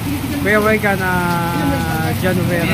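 Steady rain falls outdoors, a constant wash of hiss beneath someone talking loudly and continuously close by.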